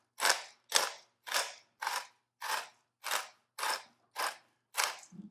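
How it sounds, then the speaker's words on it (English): A pepper mill grinding fresh pepper, nine or ten evenly spaced crunchy grating bursts in a steady rhythm, close and clear with no talking. "I'm just going to give it a good grind of fresh pepper"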